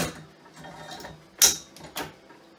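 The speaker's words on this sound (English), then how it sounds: "You can either put the cap on the bottle, drop the capper," A bottle capper crimps a cap onto a homebrew beer bottle: two sharp mechanical crunches about half a second apart, close and distinct over a quiet background.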